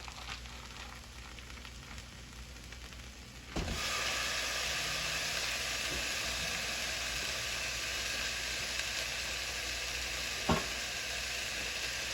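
Ground beef hits a hot pan and a steady, loud sizzle rises abruptly, then holds as a constant frying hiss. A few faint clicks of utensils sound over it.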